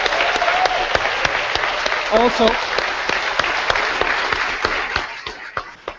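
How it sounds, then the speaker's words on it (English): A convention crowd applauds steadily, a dense wash of clapping with sharp individual claps standing out, a voice briefly speaking over it, then the applause thins and tails off. "can we have a big round of applause"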